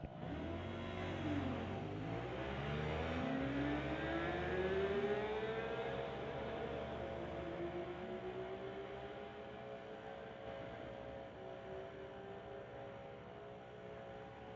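Drag race at a strip between a 2021 Yamaha and a Honda CBR motorcycle, engines launching loudly and climbing through rising gear pulls, then fading into the distance as they run down the track.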